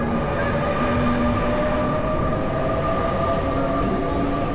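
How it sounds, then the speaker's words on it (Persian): A train pulls away from a station in France, a loud, steady rumble of wheels and carriages with sustained tonal whines running throughout, close by and without voices. "ترن هم رفت."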